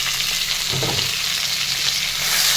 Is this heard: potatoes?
yes